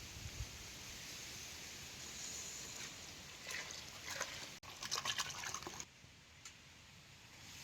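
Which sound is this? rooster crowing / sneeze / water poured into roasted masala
water poured into roasted masala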